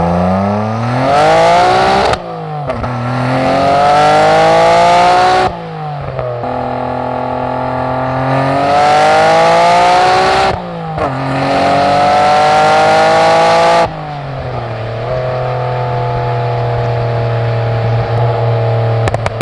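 A Nissan Skyline R32 GT-R running 1.05 bar of turbo boost revs hard in repeated pulls, its loud engine note sweeping up in pitch, cutting off sharply, then climbing again about four times before settling to a steady drone.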